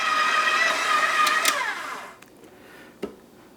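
A stand mixer kneads sticky cinnamon-spiced pastry dough with a dough hook, a steady whirring motor hum that winds down and stops about two seconds in, followed by a single soft knock.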